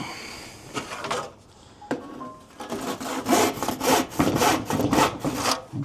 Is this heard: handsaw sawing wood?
yes